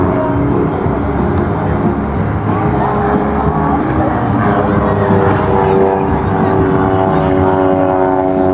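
A small aerobatic airplane twists and turns overhead at an Air Force base airshow and open house, its propeller engine droning loudly and steadily with a wavering pitch throughout.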